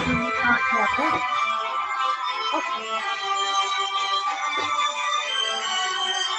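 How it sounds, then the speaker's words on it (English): A mobile phone rings at a busy quiz night, its steady electronic melody sounding loud and continuous for several seconds over a faint crowd murmur. "Somebody's phone."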